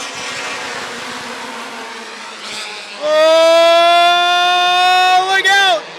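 Midwest Dash Series race cars qualifying at Rockford Speedway, a loud engine roar swelling in around three seconds, rising steadily in pitch as the cars pass close, after quieter distant racing noise.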